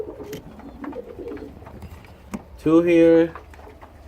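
Young grizzle racing pigeon chicks in a loft, soft scattered cooing and chirps followed by one louder drawn-out coo, with someone speaking briefly nearby.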